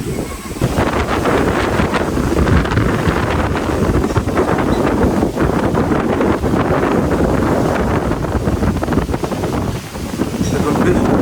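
Strong wind blows outdoors in an open, waterlogged field, roaring hard and continuously into the microphone with heavy buffeting rumble throughout.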